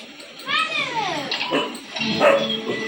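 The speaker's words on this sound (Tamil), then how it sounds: "பாருங்க எவ்வளோ பெரிய டாக்." A large dog barks a few times close by, with high whining yelps mixed among the deeper barks.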